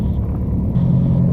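A light aircraft engine runs at a steady, close idle, its low rumble stepping up a little louder partway through as the revs rise to about 1,000 RPM.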